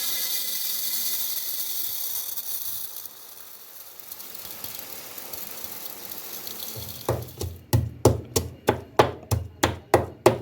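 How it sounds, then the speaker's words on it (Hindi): Onions chopped with a knife in a home kitchen, about nine sharp, evenly spaced cuts near the end, following several seconds of running water and faint background noise. "प्याज कटिंग हो रहे हैं"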